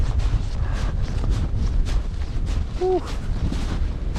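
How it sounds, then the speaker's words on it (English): Strong, cold wind buffets the microphone on an open hiking trail above a boggy clearing at Moraine Hills State Park, a steady loud rush throughout, with a brief exhaled breath near the end. "Oh, a ton of wind for sure"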